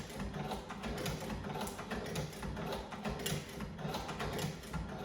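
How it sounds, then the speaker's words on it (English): A hand-crank sewing tool stitches leather grips with Velcro, giving a steady close-up clicking and ratcheting mechanical whir with a regular rhythm and no talk. "You may ask why I have a hand crank tool"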